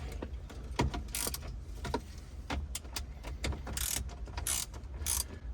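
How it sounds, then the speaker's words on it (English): Ratcheting 7mm deep socket on a spark plug wrench loosening bolts on a 2011–2018 Jeep Wrangler JK, a run of close, crisp clicking bursts with short pauses between strokes, no talking. "So that's just a 7mm deep socket on a spark plug wrench."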